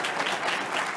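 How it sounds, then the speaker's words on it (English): Audience applause fills a conference room during a morning plenary session at a transportation research showcase, steady and dense, with no voices over it. "Turn page, applause."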